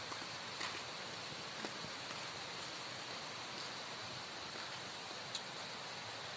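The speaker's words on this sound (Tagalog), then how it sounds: "Yan, tumutulo na yung ulan." Rain falls steadily outdoors, a soft continuous hiss with occasional faint drips, even and unbroken throughout.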